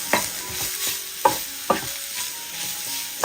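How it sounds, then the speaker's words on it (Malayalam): Chilli, turmeric, pepper and garam masala powders are stirred in a hot pan, with a steady soft sizzle under repeated scraping spoon strokes, close and clear. "പൊടിയുടെ പച്ചമണം മാറി കിട്ടുന്നവരെ ഒന്ന് ഇളക്കി കൊടുക്കാം"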